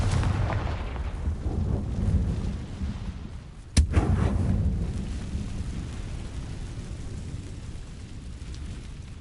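A single sharp, booming blast from a spell in a Harry Potter video game cracks out midway, rising over a low rumbling background that fades slowly afterward.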